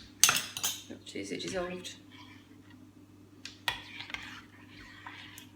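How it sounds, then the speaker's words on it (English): A whisk clinks against a bowl while celery soup mixture is stirred, a few quick metallic taps and rattles up close, separated by quiet gaps, with a person asking a short question. "I'm just going to whisk that up just to."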